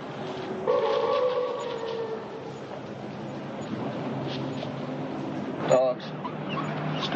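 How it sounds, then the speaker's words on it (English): Dogs out in the woods at night whimper and yip with a thin whining cry early on and a brief bark later. Voices talk over the dogs. "Has to be dogs"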